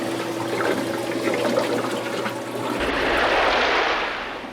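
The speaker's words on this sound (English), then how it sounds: "that water in turn then spills into the reservoir itself." Water spills from an aquarium algae scrubber through a bulkhead pipe into the reservoir, a continuous close splashing rush that swells louder partway through.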